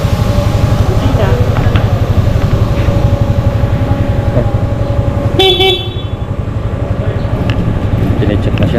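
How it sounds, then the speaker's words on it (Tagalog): A motorcycle horn sounds in one short honk during a roadworthiness inspection, loud over a steady idling engine and background hum. "Busina."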